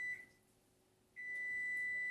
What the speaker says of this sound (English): And that was the timer for the vegetables.